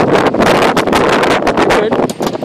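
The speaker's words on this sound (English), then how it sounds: "It's the wind." Strong wind blows outdoors on a fishing boat and buffets the microphone with a loud, steady roar and rushing gusts for the whole stretch.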